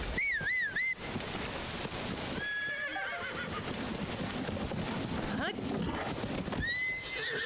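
In a video game, a horse whinnies loudly, then hooves clip-clop as it moves, with a second neigh near the end; a voice talks over part of it.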